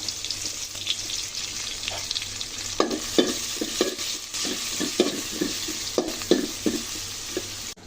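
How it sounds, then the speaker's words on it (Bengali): Onions sizzle in hot oil in a pan, a steady frying hiss broken by repeated scraping stirs of a spatula, close and moderately loud with no talking. "তেল গরম হয়ে গেছে, এখন দিয়ে নেব পেঁয়াজগুলো ভাজি ভাজি করে নেব"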